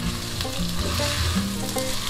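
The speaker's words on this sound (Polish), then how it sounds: "niech się to tutaj wszystko smaży" Vegetables and garlic fry and sizzle steadily in a pot for Silesian żur soup, a continuous close hiss with faint stirring clinks and no voices.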